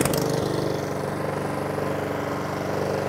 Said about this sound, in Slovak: Teraz si prepneme kosačku do mulčovacieho režimu a ideme skúsiť mulčovať.